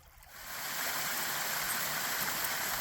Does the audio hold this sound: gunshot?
no